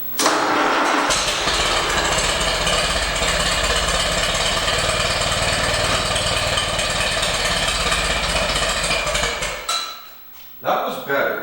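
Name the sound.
1943 Allis Chalmers C tractor engine starting and running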